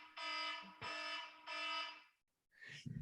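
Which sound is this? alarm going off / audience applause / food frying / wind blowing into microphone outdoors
alarm going off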